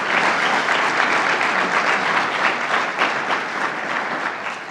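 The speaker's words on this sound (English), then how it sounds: "she should get a round of applause for that" An audience gives a round of applause for the council chair at an event, with steady, dense clapping from many hands that stays even throughout and tapers slightly at the end.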